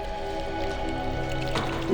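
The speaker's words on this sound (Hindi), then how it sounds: "पानी की आवाज?" Water splashes and trickles inside a locked room, a steady muffled flow heard from outside the door, fairly loud and continuous with a brief sharper slosh near the end.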